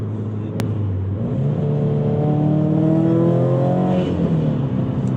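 A Subaru WRX STI running on E85 ethanol pulls hard under acceleration, its engine note climbing steadily in pitch, loud and close, with no talking.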